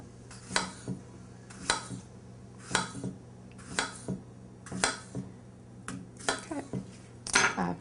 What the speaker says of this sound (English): now I'm gonna slice these, I would say about 1/2 inch or so, and in an angle